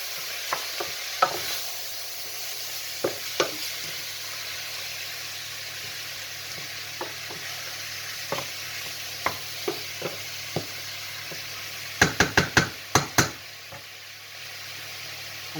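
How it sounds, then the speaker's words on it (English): Green chilies frying in a curry pan for safed gosht get a thorough stir: scattered spoon knocks against the pan over a steady sizzle, then a quick burst of rapid scrapes near the end, close and alone. "Give it a good old stir."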